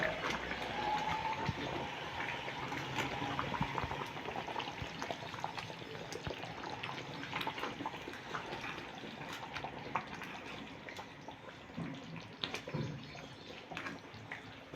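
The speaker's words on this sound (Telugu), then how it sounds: "ఇక మూత పెట్టకుండా ఒక 2 నిమిషాలు ఉడకనిచ్చి ఈ కొంచెం లూజ్గా ఉన్న వాటర్ పోయే వరకు చేసేస్తే సరిపోతుంది" Egg curry (pulusu) boils in an uncovered pot, giving a steady low bubbling and soft sputtering that runs on evenly with no talking.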